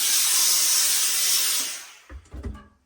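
Steam hisses steadily into a Borsalino trilby hat for nearly two seconds, close and loud, then cuts off, followed by a few soft handling bumps and rustles.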